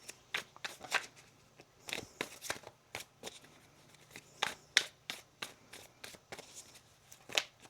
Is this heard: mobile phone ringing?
no